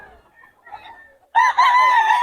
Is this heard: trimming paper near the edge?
no